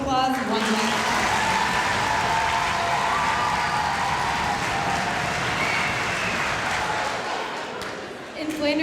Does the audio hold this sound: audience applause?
yes